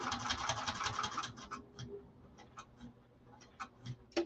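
A sewing machine stitches a saddlebag exterior, starting with a quick rapid run of stitches and then slowing to scattered single clicks and short bursts, close up and fairly quiet.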